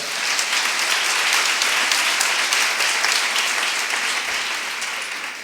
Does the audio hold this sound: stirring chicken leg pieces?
no